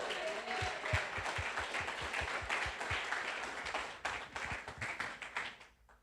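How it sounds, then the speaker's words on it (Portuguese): A congregation applauds during a Sunday church service, a steady wash of many hands clapping with a rhythmic beat running underneath that fades out toward the end. "Aplauda o rei."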